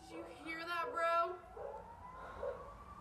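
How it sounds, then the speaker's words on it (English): A police siren outside at night wails faintly, its rising tone partly buried under a voice talking nearby. "Right when she came out, she heard sirens."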